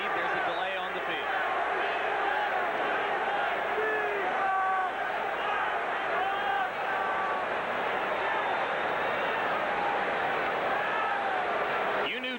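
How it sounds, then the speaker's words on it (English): A 1987 Minnesota Vikings vs Los Angeles Rams football stadium crowd roars steadily throughout, a broad, sustained din of massed voices heard under a commentator's talk. "Crowd chanting, replay, replay."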